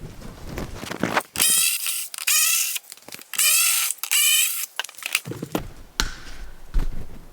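Ratchet clicking in bursts while Torx T30 bolts are backed out from the lower rear bumper cover of a VW Touareg V10 TDI, with rapid close-up ratcheting runs separated by short pauses and handling knocks.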